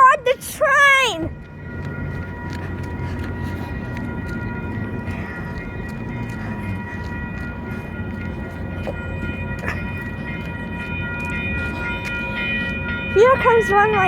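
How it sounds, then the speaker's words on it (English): Train running through a San Diego station, a continuous rumbling roll with steady tonal hum and a few knocks, preceded and followed by brief chirping speech-like sounds at the start and end. "Don't worry, I'm gonna record the train."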